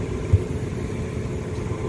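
Blower motor of an Aaon HVAC unit on a no-heat service call, a steady low hum and rumble running evenly throughout, near and unbroken.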